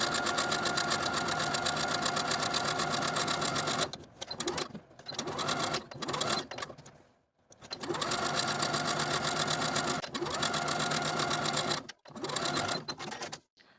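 A sewing machine edge stitches close to the inner edge of a fabric wrap skirt tie, running in long steady bursts with brief pauses between runs as it pivots at the point.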